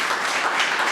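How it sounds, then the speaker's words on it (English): An audience at a council meeting applauds in a short burst of dense clapping, loud and close, with no talk over it. "Would you give him a round of applause for his leadership?"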